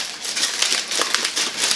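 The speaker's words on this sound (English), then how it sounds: "I'm going to crumple up this foil" Aluminium foil crumpled by hand before use in stovetop Dutch oven baking, giving a loud, continuous crackling rustle of close, rapid crinkles throughout.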